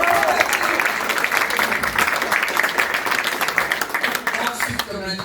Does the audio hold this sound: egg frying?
no